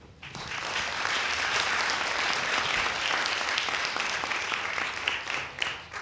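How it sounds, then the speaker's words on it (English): Audience applause welcoming a speaker onto the stage at a business seminar, a dense, steady wash of many hands clapping that swells quickly and holds loud for about six seconds before thinning slightly at the end. "welcome to the stage with a big round of applause, Phillip Berry"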